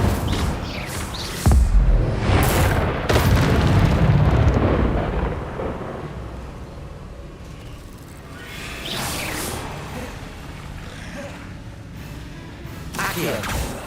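The Incendio fire spell in Hogwarts Legacy on Xbox Series X casts with loud rumbling whooshes and crackling bursts, repeated several times, then fading to a lower roar before another flare.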